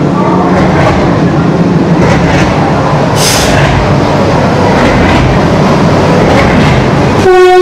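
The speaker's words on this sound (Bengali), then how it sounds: "চোদ্দ নম্বর প্ল্যাটফর্মে প্রবেশ করছে হাওড়া জম্মু তাওয়াই হিমগিরি এক্সপ্রেস" The Howrah–Jammu Tawi Himgiri Express pulls into platform fourteen with a loud, continuous rumble and wheel clatter close by, a brief sharp horn blast, and a chiming station tone at the end.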